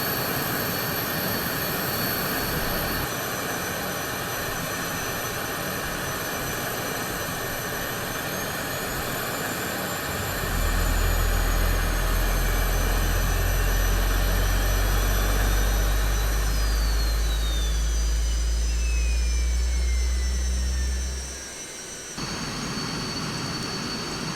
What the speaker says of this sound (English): Get engine 2 started.